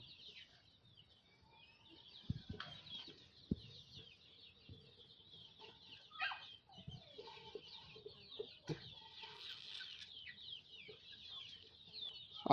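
A sick, feverish chick clucks and peeps softly and intermittently, with sparse short calls and faint handling knocks in a quiet setting.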